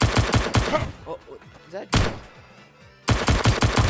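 Gunfire from a pistol in the VR game Blades and Sorcery, loud rapid bursts of shots in quick clusters with gaps between, a player speaking briefly over them.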